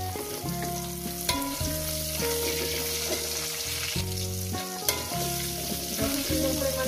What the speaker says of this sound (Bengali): আলুগুলো আমি 4-5 মিনিট ভেজে নেব।